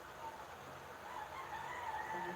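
Chickens and a rooster in a residential neighborhood. Faint, distant crowing drifts in over a low background hum, with no talk.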